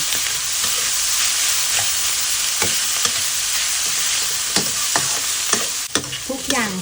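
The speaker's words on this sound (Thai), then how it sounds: "ผัดทุกอย่างให้สุกนะคะ ผัดให้แห้งแบบนี้เลย" Bamboo shoot filling with chopped garlic, soy sauce, sugar and pepper is stir-fried in a pan until dry. A steady close sizzle runs throughout, broken by repeated sharp scrapes and clacks of the spatula stirring.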